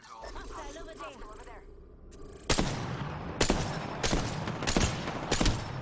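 Heavy single shots from a Longbow sniper rifle in Apex Legends, four loud cracks spaced roughly a second apart following a stretch of talk, each with a short booming tail.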